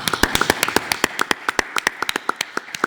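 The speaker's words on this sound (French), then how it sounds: "Un immense applaudissement pour vous" Applause from a Paris audience honoring Élodie Benoît: many crisp, irregular hand claps from a modest group, close and fairly loud, with no voices over them.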